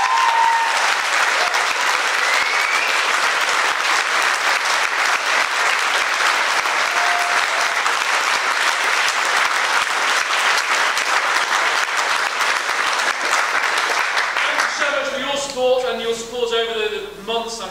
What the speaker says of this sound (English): Huge round of applause again.